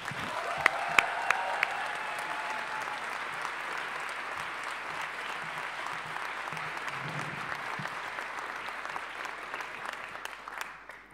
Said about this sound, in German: Applaus bitte für Verena Müller